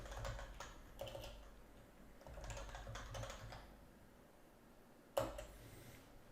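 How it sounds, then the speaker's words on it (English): A computer keyboard typed on in short bursts at a quiet desk while a PowerShell command is entered, with soft clustered keystrokes, pauses between bursts, and one sharper key clack near the end. "if we type git Windows feature"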